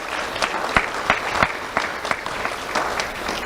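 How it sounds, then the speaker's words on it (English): An audience at a community awards ceremony applauds its principal sponsors with scattered, fairly sparse claps that stay at an even level throughout. "let's have a round of applause for our principal sponsors"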